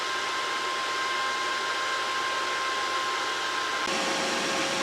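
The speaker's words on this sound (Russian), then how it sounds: "Вентилятор работает." A cooling fan runs steadily inside a welding inverter converted into a half-bridge induction heater, a continuous broadband whoosh with faint steady tonal whines, close and unchanging, shifting slightly in tone near the end.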